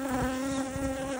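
Honeybees buzz in a dense, steady drone at an opened hive, close and continuous, with a strong tonal hum and no voices.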